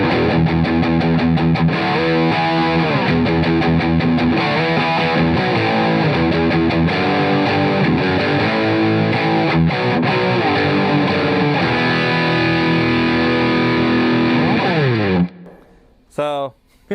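Heavily distorted electric guitar played through a Blackstar St. James amp, sustained overdriven chords ringing for most of the stretch before cutting out abruptly near the end.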